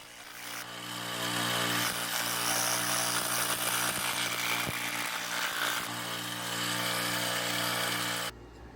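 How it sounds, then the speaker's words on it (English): A loud, steady power tool whines and buzzes continuously for several seconds, with a few brief dips as it cuts a circle for a speaker grill, then stops abruptly. "I just used my power tool to cut a circle that will fit in the speaker grill"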